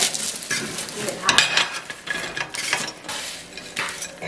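Food frying in a pan with a little oil crackles and sizzles close up, with irregular louder spits and stirring scrapes rising and falling throughout.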